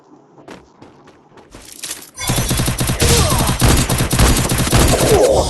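Gunfire from the video game Free Fire starts with a few sparse shots, then breaks into a loud, dense burst of rapid automatic fire that continues to the end.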